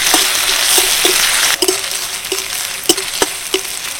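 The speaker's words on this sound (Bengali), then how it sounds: "এবার সব কিছু হালকা ভাজা ভাজা করে নেব।" Five-spice, chopped onion, green chili and grated ginger fry in hot oil for an onion snack, a loud dense sizzle throughout punctuated by several light spatula taps and stirring clicks.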